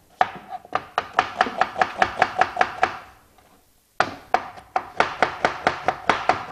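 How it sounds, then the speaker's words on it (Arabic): An onion is finely chopped on a board for a sauce, with loud, crisp, rapid knife strikes in a steady rhythm, a pause of about a second, then another fast run of close chopping. "شو راح نحط بصلة ناعمة"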